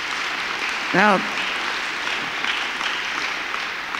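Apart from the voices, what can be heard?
audience applause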